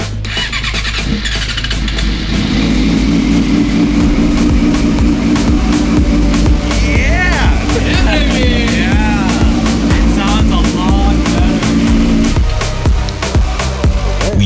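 A Yamaha R6 track motorcycle, just after a valve adjustment, fires up and revs hard through its gears, a loud sustained engine roar with rising and falling pitch sweeps; a voice speaks briefly at the start.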